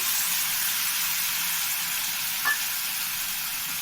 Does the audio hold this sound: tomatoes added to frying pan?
yes